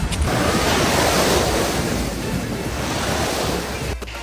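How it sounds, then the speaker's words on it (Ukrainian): Sea waves wash onto the beach at Magaluf, Spain, a loud, continuous surf roar mixed with strong wind buffeting the microphone, close by and without speech. "Ось воно море."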